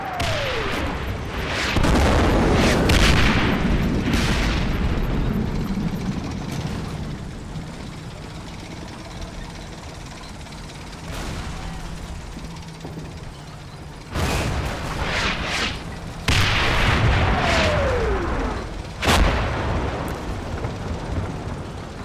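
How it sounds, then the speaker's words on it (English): Mortar shells burst in a Combat Mission Battle for Normandy battle, a string of heavy booming impacts with rumbling tails, some loud and close, others duller, spread irregularly over a low continuous war-game background. "those mortars are landing behind the town as intended"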